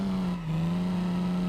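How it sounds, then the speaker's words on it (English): Straight-six engine of a muscle car in BeamNG, a steady high-pitched, raspy drone held at a constant rev with a brief dip near the start, loud and close, no speech. "It's quite a high-pitched,"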